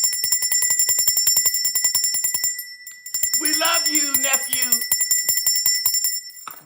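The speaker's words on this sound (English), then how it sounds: "hear your bell right now" A rapid, repeating bell rings loudly during an organic food forest live chat, pausing briefly before resuming while a voice speaks over it, then cutting off near the end.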